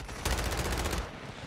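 A rapid burst of automatic gunfire in a video game, loud and close, firing in a quick even rhythm for about a second before cutting off.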